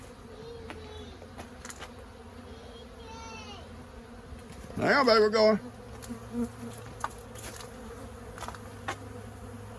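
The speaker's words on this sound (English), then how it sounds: "let you look at these robber bees that are trying to get into my bee room" Robber bees buzzing steadily around a sealed bee room where honey is stored, a close, continuous insect drone with a brief louder burst midway, and a person speaks briefly.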